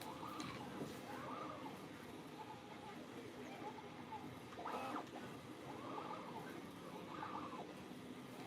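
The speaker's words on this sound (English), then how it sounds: "3D printer apparently is moving my entire table." A 3D printer runs on a work table in a home craft room, its stepper motors whining in repeated rising and falling sweeps over a low mechanical hum, with speech faintly under it.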